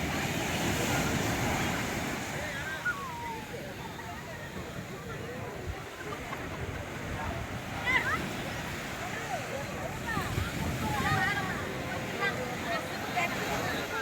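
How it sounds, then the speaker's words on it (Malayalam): Sea waves break steadily on Kanyakumari beach at sunrise, a continuous loud wash of surf with wind noise on the microphone. Children running from the incoming waves can be heard, and voices sound faintly in the background. "കടലിലെ തിരമാലകളും അതിനെ കയറി വരുമ്പോൾ ഓടിപ്പോകുന്ന കുട്ടികളുമാണ് ഈ കാണുന്നത്."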